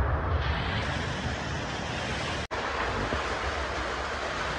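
The first heavy June rain pours down in a village, a loud, dense, steady roar of water with a brief dropout midway and no voices.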